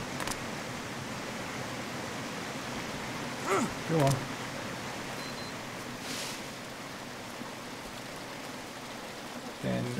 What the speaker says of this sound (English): here's the waterfall again